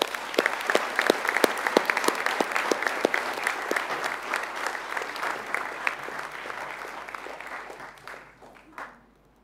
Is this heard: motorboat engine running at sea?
no